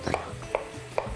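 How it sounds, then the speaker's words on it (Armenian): A knife blade passes lightly over apple on a cutting board, giving three soft, evenly spaced chopping taps, close and fairly quiet, with no talk. "Թեթևակի այսպես անցնում ենք դանակի շեղբով, շատ մանր պետք չի կտրատել"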